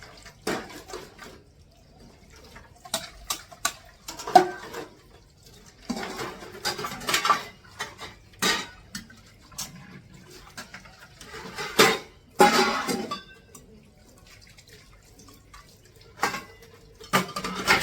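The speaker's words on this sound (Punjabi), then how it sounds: "ਇੱਥੇ ਆਪਾਂ ਕਰਦੇ ਆ ਬਰਤਨ ਸਾਫ਼" Dishes clatter and clink in irregular bursts with splashes of running water, while birds coo faintly in the background.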